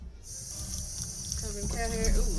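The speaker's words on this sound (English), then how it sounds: "let's not put too much water in there" Water is poured into a pot holding prickly pear and dancing bones cactus cuttings, a steady trickling pour that grows fuller and louder toward the end, with a faint voice underneath.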